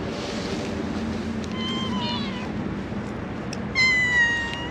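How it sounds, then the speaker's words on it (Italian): Two kittens meow for food outdoors in Turkey, a few thin high meows rising over steady wind and rumbling background, the last one louder and closer. "Qui abbiamo anche 2 bei gattini che chiedono da mangiare"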